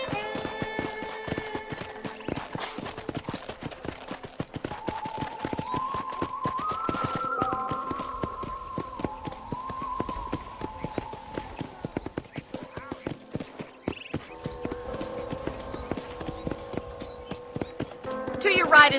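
Horse hooves clip-clopping steadily through the Red Dead Redemption video game as a ranch ride begins, a continuous rhythmic trot running the whole stretch under a voice talking, with game music in the background.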